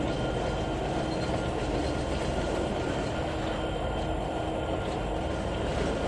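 A freight train in the Trainz 2019 railway simulator rolls along with its train brake applied, giving a continuous rumbling wheel and rail roar with a faint steady squeal, no talk over it.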